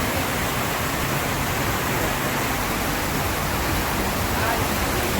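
Rain falls steadily outdoors in Cumilla, Bangladesh, a dense, even hiss of heavy downpour with no breaks, close and loud throughout.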